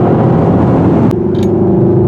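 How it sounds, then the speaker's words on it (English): Exhaust of a 2021 Mercedes-Benz GLE 63 S AMG with a BiTurbo V8, a loud, close, continuous low rumble, steady throughout with a brief higher click partway through. "And the sound of that exhaust"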